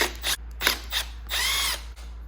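A hand ratchet loosens the 4 mm bolts on the factory handguard of a Suzuki DRZ400SM supermoto. It gives several short clicking bursts and then one longer run of ratcheting over a steady low hum.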